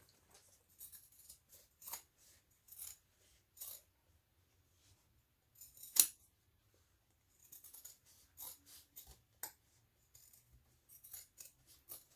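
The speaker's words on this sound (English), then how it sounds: "So now you're just going to trim the seam allowance down" Scissors snipping fabric to trim a sewing seam allowance, a series of short crisp cuts in irregular clusters, close and fairly quiet, with one louder snap near the middle and near-silence between cuts.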